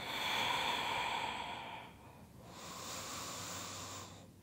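Deep, slow breathing during a morning yoga flow, one long airy exhale that fades, then a softer, steadier breath, close to the microphone.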